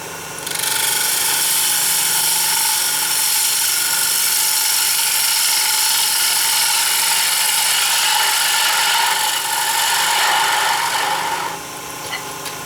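Lathe spinning at full speed with a tailstock steady supporting the work, producing a loud, continuous high whine and rushing hiss that holds for about eleven seconds before dropping off.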